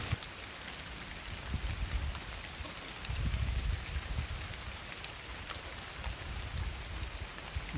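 Steady rain falls at a woodland bushcraft camp, a constant fine hiss of drops on surfaces with low rumbling swells, fairly faint and unbroken, no voices.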